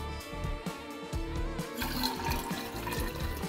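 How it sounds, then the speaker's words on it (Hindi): Water gurgles and splashes continuously into a bottle being filled with heated water from a tap, close by and fairly quiet, with an uneven, bubbling flow throughout. "बस एक बार बोतल भर के"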